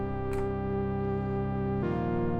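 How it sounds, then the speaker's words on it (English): Sustained soft synth pad from an Arturia Mini V, a single oscillator with added noise and noise-engine modulation, holding a rich harmonic chord that shifts to a new voicing near the end, steady and alone. "It's just one oscillator with some noise on it"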